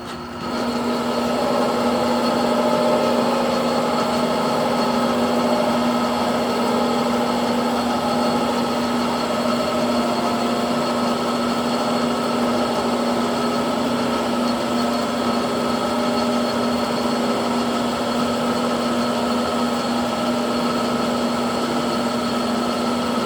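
A small lathe runs steadily while machining a gear cutter arbor, giving a constant hum with a clear tonal whine, close and even throughout, no voices.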